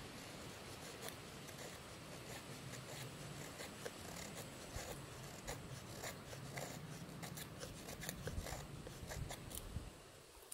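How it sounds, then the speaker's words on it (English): A TOPS Tracker T-2 knife scrapes small, tiny shavings, making a faint, continuous dry rasping that goes on without a pause. "So what I will do, I will make more these small shavings on the reel."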